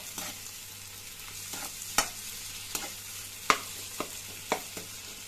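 Onions sautéing in a pan for chicken gravy, with a low steady sizzle and several sharp spatula scrapes and taps spaced through the stretch, close by and fairly quiet.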